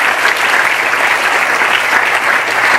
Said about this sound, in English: Big round of applause to our volunteers who helped all the areas